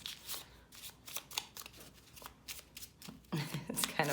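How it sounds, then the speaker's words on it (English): Tarot cards being shuffled by hand, close and quiet, in a series of quick riffling bursts with short pauses between them, ending in a louder flurry. "It's kind of fun shuffling with your eyes closed."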